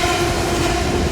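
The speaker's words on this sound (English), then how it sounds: "I like this train so much, dude. It must have been like running since the 1980s" A vintage-looking train rolls past close by in a city, a loud dense rumble with a steady tonal hum throughout and nothing else audible above it.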